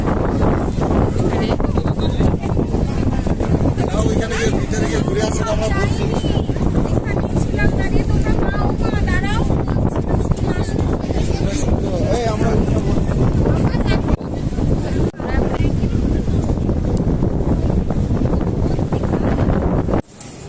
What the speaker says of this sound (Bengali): হাওয়া দিচ্ছে কিন্তু মানে ভীষণ ভালোও লাগছে, প্রচন্ড হাওয়া